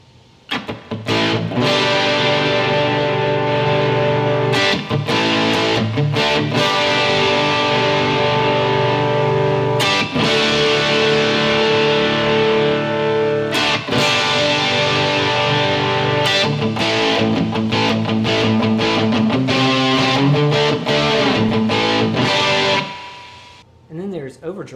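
Electric guitar run through a distortion effect in the AmpliTube app gives a gritty, saturated tone, strummed chords and single-note lines playing loudly and continuously before briefly fading near the end.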